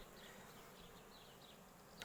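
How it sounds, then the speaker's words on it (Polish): A dense, steady hum of many honey bees buzzing close by around an open hive, continuous and moderately quiet with no talking. "No pszczoły są wszędzie, w każdej uliczce."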